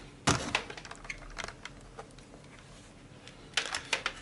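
The plastic feet of a Perixx PX-1000 backlit gaming keyboard are flipped up, giving sharp close clicks and knocks at the start and again near the end, with quiet handling in between.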